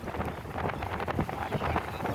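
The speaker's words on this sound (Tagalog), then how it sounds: "Mahangin." Steady wind buffets the microphone with a constant rumbling roar, broad and loud, with no break throughout.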